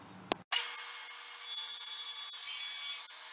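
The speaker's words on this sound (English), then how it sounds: "I'm using a pipe clamp attached to my miter gauge to help push this through the saw" A table saw cuts a mahogany board pushed through with a miter gauge and pipe clamp, a brief tap before the blade bites, then a loud, continuous rasping cut that carries on steadily to the end.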